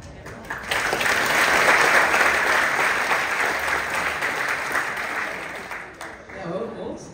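Loud, sustained applause fills the room at a diploma ceremony, close and dense. It fades out after several seconds, with some voices mixed in.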